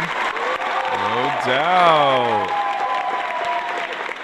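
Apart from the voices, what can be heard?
audience applause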